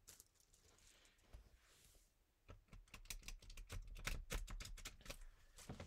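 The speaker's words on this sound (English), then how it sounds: "Shuffling is really loud in the microphone." Quiet rustling gives way to a rapid run of crisp, close clicks and flutters as a deck of cards is shuffled.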